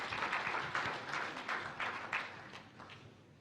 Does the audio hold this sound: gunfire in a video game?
no